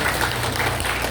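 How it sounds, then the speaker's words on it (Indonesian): Audience applause at the opening of a cultural festival, a loud, close burst of dense clapping filling the brief moment. "Ya, tepuk tangan untuk kita"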